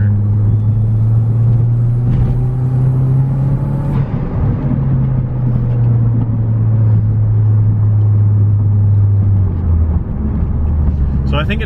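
A Saab 9-3 fitted with a custom intake climbs a hill, its engine holding a loud, steady low drone with a brief dip near the middle, while someone talks over it.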